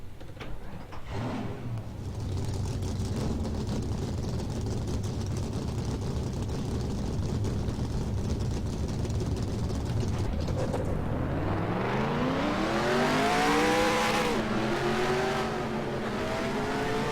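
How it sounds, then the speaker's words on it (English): Stock car engines in NASCAR Racing 2003 idle as a steady loud rumble, then rev up together in rising, sweeping pitches as the field roars to life. "Drivers, start your engines."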